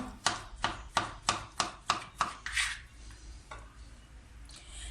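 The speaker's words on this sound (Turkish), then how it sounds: "Şimdi havuçlarımı da doğruyorum." Knife chopping carrots on a board for a red beet salad, about eight sharp, evenly spaced cuts in quick succession, then a brief shuffle and quiet.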